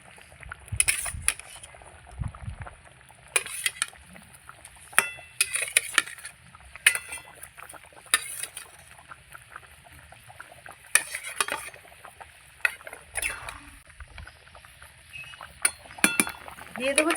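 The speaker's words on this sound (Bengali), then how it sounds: "ভাজা কাতলা মাছগুলো দিয়ে দিচ্ছি" Fried catla fish pieces being added to a curry in a pan, with light clinks of a metal spatula against the pan and faint liquid sounds repeating through the whole stretch, with talk over it.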